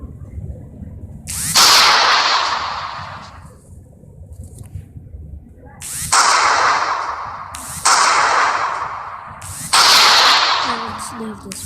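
Four loud, close gunshots boom out one at a time, each followed by a long rumbling decay: a single shot, a pause of several seconds, then three more at roughly even intervals.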